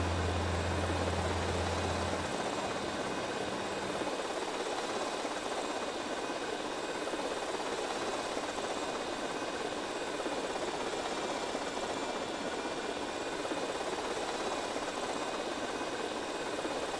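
A steady whirring helicopter drone in the video game GTA Vice City, with a constant rotor roar and engine whine throughout, synthetic-sounding and unchanging, with a low hum fading early on.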